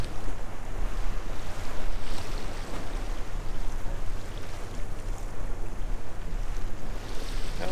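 Ocean waves slosh and wash steadily beneath a fishing kayak during a kayak fishing tournament at Oak Island, with low rumbling wind buffeting the microphone throughout and no voices.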